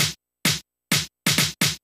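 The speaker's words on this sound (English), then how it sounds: "And I added also this snare that sounds like this." A dry electronic snare drum hit repeating about five times in a short pattern, each crack loud and cut off by silence, with no voice.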